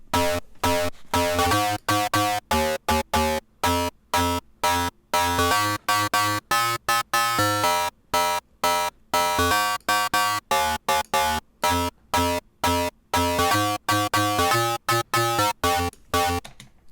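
Future bass synth built with a phaser and macros, pumping in rapid choppy rhythmic stabs with regular gated gaps, bright and loud for the whole stretch, with no voices.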